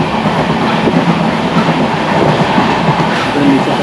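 Steady, loud rumble and rattle of a passenger train running on rails toward a station on the way to Goa, a continuous dense clatter heard from inside the carriage with no talk.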